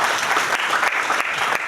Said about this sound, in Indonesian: Ayo beri tepuk tangan dulu buat Tuhan.